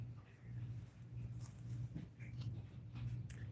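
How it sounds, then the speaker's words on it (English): A friendly dog gives a few short, sharp barks over a steady low indoor hum. "that's the first time I heard Jack bark"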